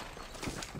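Horse hooves clip-clop in the Red Dead Redemption video game, a brief run of soft, steady hoof beats under continuous background game noise.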